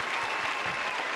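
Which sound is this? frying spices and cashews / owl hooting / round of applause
round of applause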